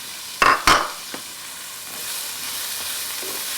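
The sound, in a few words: onion sautéing in a pot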